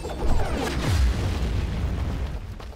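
Bombs explode in the side-scrolling action game Dust: An Elysian Tail, giving a heavy, sustained booming rumble that swells and rolls on without a break for a few seconds.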